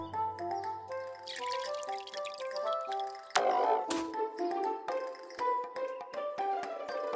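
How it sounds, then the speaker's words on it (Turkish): A cartoon watering can watering toy vegetables gives soft dripping and trickling water sounds, set among light musical tones and bright sound effects, with one sharp splash burst midway. "Tık tık sulama kabını bulmuş. Oyuncak sebzeleri suluyor."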